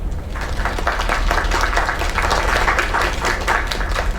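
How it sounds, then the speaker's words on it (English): A crowd applauds steadily in the video game Lake, with dense clapping rising and holding strong for several seconds before tapering slightly. "Another round of applause."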